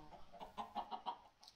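Chickens in a coop in the video game Minecraft cluck softly in a quick run of about five or six short, evenly spaced notes, faint and close, with no talk.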